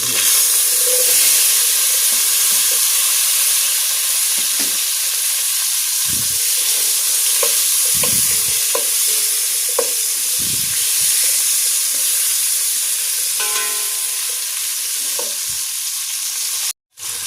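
Onion, garlic and fish sauce hit a hot frying pan where dried fish has browned, giving a loud continuous sizzle and hiss with occasional stirring scrapes and pops.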